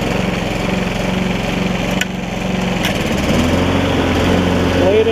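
A 1996 Toro Super Recycler lawn mower runs loud and steady close by with its blade engaged, a constant engine drone that shifts pitch slightly partway through, joined by a couple of sharp clanks.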